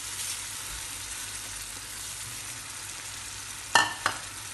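Rice for a seafood and vegetable paella fries in a pan with a soft, steady sizzle, then two sharp clatters near the end as more goes in.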